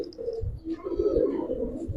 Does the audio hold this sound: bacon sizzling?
no